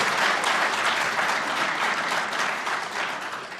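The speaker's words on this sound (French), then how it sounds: "Je vous prie de les applaudir." Sustained applause fills a National Assembly chamber, a dense wash of many hands clapping steadily, loud and close, then easing slightly toward the end.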